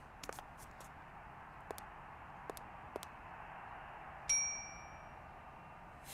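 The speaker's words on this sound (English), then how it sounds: "Gotta ring the bell again." A hotel desk bell in the video game Syberia gives one clear ding that rings out and fades over a couple of seconds, after several faint short clicks against a quiet background.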